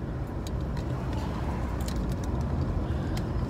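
Car interior while driving, a steady low road and engine rumble with faint rattles and jingling above it, no talking.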